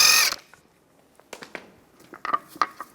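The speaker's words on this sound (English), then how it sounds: "use a 17mm socket, take the lug nuts off" A power tool with a 17mm socket spins lug nuts off a wheel of a 2007-2013 Mini Cooper, heard as one loud short burst, followed by a pause and then a series of light metallic clinks and knocks.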